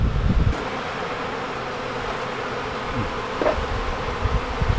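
Honeybees hum in a dense, steady swarm as they head into the opening of a hive during a hive split, with outdoor wind, no voices.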